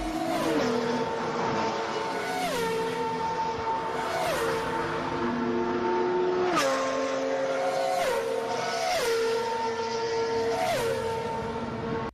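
F1 and GT race cars roar at high revs, with the engine pitch dropping at regular intervals as gears shift up; the engine noise is continuous and loud.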